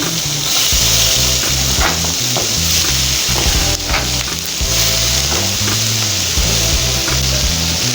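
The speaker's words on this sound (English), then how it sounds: "put all this in the frying pan and let it fry." Peppers and onions sizzle loudly in a hot frying pan with a steady crackle, while scraping and stirring sounds come and go over low background music.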